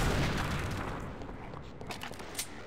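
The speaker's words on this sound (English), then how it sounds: "Yeah, the explosions in the actual game weren't this lively." Explosions from a bombing ship in the Half-Life: Uplink game played in Sven Co-op, a faint booming blast at the start fading into rumbling decay, followed by a few small scattered pops and crackles.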